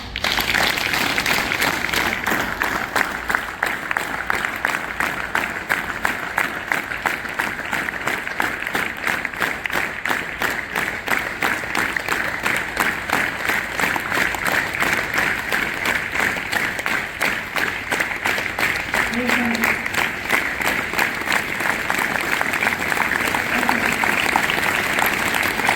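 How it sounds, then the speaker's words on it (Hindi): A group at a yoga workshop during a Bharat Scouts and Guides camp claps fast and steadily, a dense, continuous patter of many hands at close range that holds an even pace throughout with no talk. "अब 1 मिनट की तेज ताली दे रहे हैं।"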